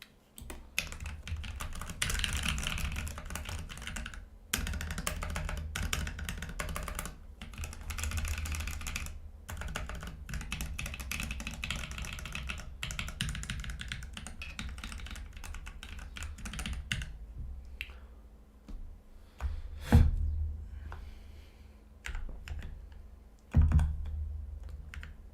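Steady typing on a custom GK mechanical keyboard fitted with blank PBT keycaps, dense continuous keystrokes close up, broken by a few short pauses and a couple of louder thumps near the end.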